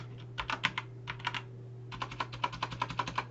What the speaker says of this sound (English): then we're going to type the word sample